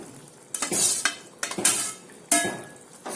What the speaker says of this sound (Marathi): आता आपण आपले हे भेंडी टाकून देऊया